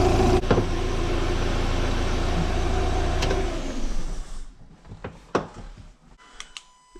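A Fiat Ducato van engine runs with a steady, loud rumble close by, then cuts out after about four seconds, leaving scattered clicks and knocks.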